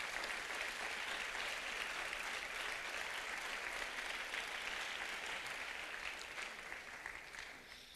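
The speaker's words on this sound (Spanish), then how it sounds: "puede usted dar una ofrenda de palmas a Jesucristo" A church congregation applauds steadily, a dense, even wash of clapping hands that carries on for several seconds before easing off slightly at the end.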